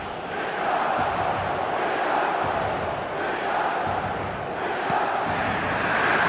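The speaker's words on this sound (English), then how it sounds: "certainly gave this crowd something to really cheer about" Stadium crowd noise from the eFootball mobile football video game, a sustained swelling roar of cheering fans that rises and falls gently throughout.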